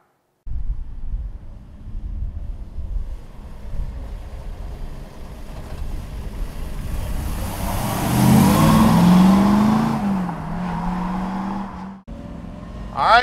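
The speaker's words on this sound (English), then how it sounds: "let's take this little Boss Mustang for a ride" A 1970 Ford Mustang Boss 302 with a four-speed manual pulls away, its engine droning steadily and then building in a loud rev partway through before easing back, heard from close by.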